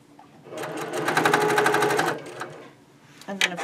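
A sewing machine stitches quilt squares together in a single close, even run of rapid needle clatter lasting about a second and a half, then stops, with a short rustle and a click after it.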